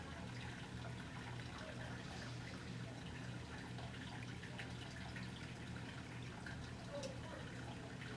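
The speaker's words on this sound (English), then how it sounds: "just slowly pour the water in." Water poured slowly from a coffee cup onto a paper towel, a soft, quiet trickle and splash under a steady low hum and broadband background noise.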